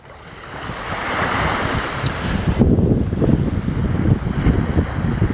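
Surf washing onto the sandy beach at Folkestone on the English coast, a steady broad rush of waves with wind buffeting the microphone, swelling and breaking continuously without speech.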